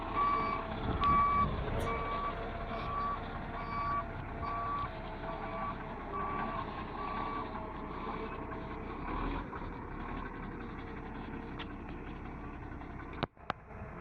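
A concrete truck reverses on a construction site, its backup alarm beeping in a steady repeating rhythm for several seconds over a low engine rumble, followed by a sharp clank near the end.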